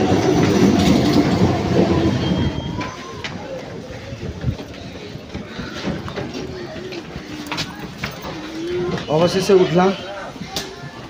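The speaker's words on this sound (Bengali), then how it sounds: "আমাদের ট্রেনও পৌঁছে গেছে।" Passenger train arriving at a station in West Bengal, with heavy rumble and clickety-clack dominating the first few seconds, then fading into quieter station ambience, pigeons and people talking.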